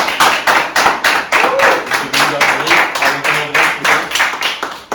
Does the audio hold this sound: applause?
yes